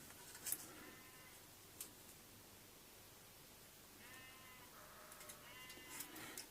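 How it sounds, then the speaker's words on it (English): Sheep bleat out in open fields in August, a few faint, distant calls spaced apart over a quiet background hiss. "if you can hear the sheep out in the fields, unusual sound for August"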